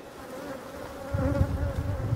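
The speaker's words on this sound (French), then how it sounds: "je vais faire les trois ruches d'à côté, qui sont des essaims du printemps aussi." Honey bees from a spring swarm colony hum steadily around the hive, a close, even buzzing that thickens with a denser, lower drone partway through.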